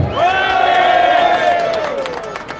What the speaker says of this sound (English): Please give a big round of applause to our good friend, James Harvey.